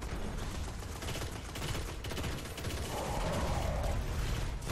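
Dense, continuous sci-fi gunfire in the video game Destiny keeps up a steady rattling barrage, loud and busy throughout with no speech.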